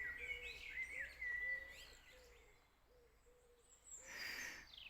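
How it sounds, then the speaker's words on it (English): Birds sing and chirp in Cornish woodland, with repeated melodic calls and a low hooting call recurring beneath them, moderately near. "Just listen to that bird song."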